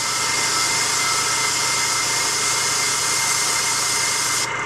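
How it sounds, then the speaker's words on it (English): An airbrush sprays a steady, loud, close hiss at a small piece held an inch from the nozzle, continuing unbroken for several seconds before cutting off abruptly at the end. "I'm holding the piece about, an inch away from my airbrush. And I'm hitting each little facet of the piece."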